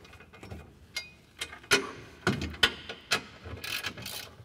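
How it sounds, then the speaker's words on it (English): A 13 mm socket and ratchet tightens a bolt on the mount plate of a UTV snow plow. Close, sharp clicks come in irregular bursts with short pauses and no talking. "We're going to take our 13 millimeter socket and ratchet and tighten it up."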